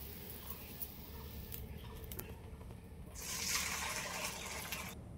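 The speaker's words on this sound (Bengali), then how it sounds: "এবার আমি এই জলটাই ঢেলে নিই" Freshly boiled water poured out in a kitchen while cooking lata fish with taro, a faint splashing rush that swells about halfway through and then carries on quietly.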